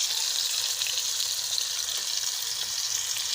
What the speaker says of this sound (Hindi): इसमें हम प्याज डाल के प्याज को अच्छी तरह से फ्राई कर लेंगे।